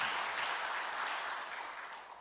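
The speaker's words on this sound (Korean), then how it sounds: "우리 박수로 하나님께 영광 드리겠습니다." A church congregation claps together during a worship service, a soft, faint wash of applause that holds steady and slowly fades.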